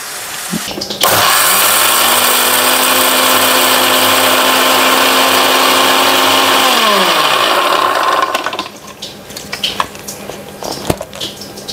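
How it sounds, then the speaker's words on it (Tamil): A kitchen mixer grinder whirs loudly and steadily for about seven seconds while grinding cumin, fenugreek, dried chillies and garlic for rasam, then winds down and stops, leaving faint clatter. "ரசத்துக்கு வந்து இதோட பூண்டும் சேர்த்து அரைச்சிட்டு வந்துடலாம்"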